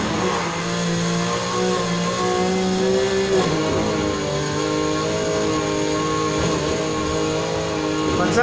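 In Need for Speed Heat, a Mazda RX-7 Spirit R '02 with full track parts revs loud and close, climbing in pitch, dropping sharply at a gear change, then pulling up again while someone talks over it.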